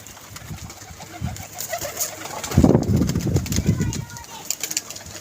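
Pigeons at a pigeon club coo in low, throaty bursts close by, with wing rustles, while someone talks over them.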